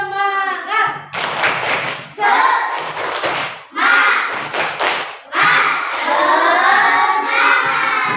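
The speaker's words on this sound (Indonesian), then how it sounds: "Coba tepuk semangatnya dulu deh." A school class performs a rhythmic spirit clap, bursts of unison hand claps and thumps in a patterned beat alternating with children's chanting voices, loud and close in a classroom.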